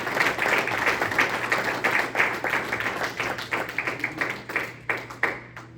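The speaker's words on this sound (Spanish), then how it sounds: "Si lo creen, hermano, denle un aplauso al Señor" A church congregation claps together in a dense, rhythmic applause that gradually thins toward the end, with a low hum underneath.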